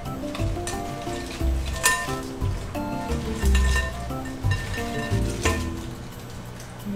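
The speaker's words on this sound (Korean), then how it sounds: "한번 꽃게를 이렇게 소주 샤워를 시켜요." Soju is poured over raw Korean blue crabs in a kitchen bowl, giving intermittent splashing, trickling and wet shuffling with a few light clinks, close and fairly loud.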